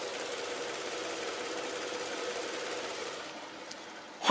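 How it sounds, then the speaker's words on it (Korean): A Hyundai Grandeur IG 3.0 LPi V6 LPG engine idles steadily and smoothly with a low even hum and faint mechanical ticking, heard close up with no talking. "엔진 소음 먼저 들려드리면은"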